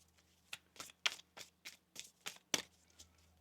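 Tarot cards are shuffled in a quiet room, about a dozen crisp riffling slaps in a fairly even rhythm, close and clear.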